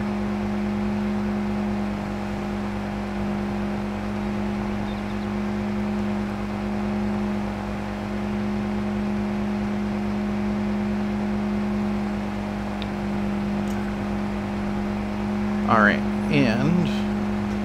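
Steady droning engine hum of a vehicle being driven in Farming Simulator 22, a constant low tonal whine running under the whole stretch, with someone talking briefly near the end.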